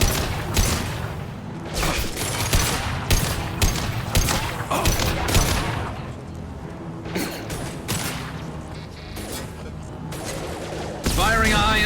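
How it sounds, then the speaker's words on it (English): Gunfire in the game Mass Effect 2, with repeated sharp shots and bursts in uneven clusters, mixed with mechanical clanks and game voices talking over the action. "Firing a high-impact shot."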